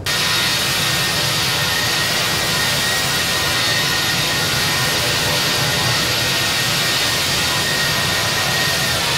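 Airbus A319 jet engines in flight within a flight simulator, a steady, loud broadband roar that holds constant throughout without pauses or voices.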